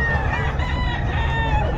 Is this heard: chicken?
yes